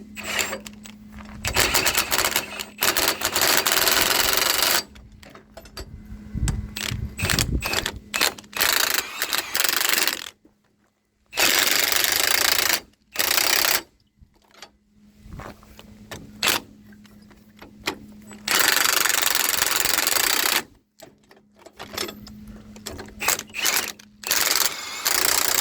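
A ratchet wrench tightens nuts onto U-bolts on an old Ford Super Duty frame being turned into a truck bed trailer, giving bursts of rapid clicking close by, separated by short silent pauses.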